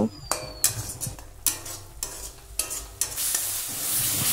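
Raw jackfruit sautéed with salt, turmeric and chili powder, giving a busy run of spatula scrapes and clinks against the pot over a constant sizzle that swells into a louder hiss toward the end.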